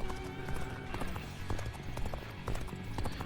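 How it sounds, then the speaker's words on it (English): Rhythmic hoofbeats of a horse galloping in Dynasty Warriors: Origins, steady clip-clop repeating close and loud over a busy game-battle backdrop, no talking. "my horse cannot go faster than that."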